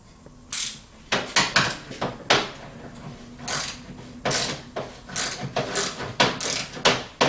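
A torque wrench ratchets in quick clicking bursts while bolts are tightened during a Dodge Ram 1500 transmission rebuild, with repeated close, sharp ratchet strokes separated by short pauses.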